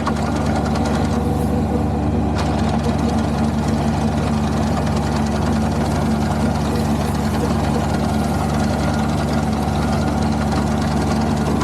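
A Yanmar rice combine harvester runs in fast gear, its engine a loud, steady, close mechanical drone that holds without a break.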